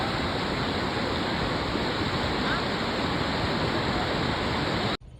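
A river in flood rushes as a loud, steady roar of broadband water noise with no pauses, cutting off abruptly just before the end.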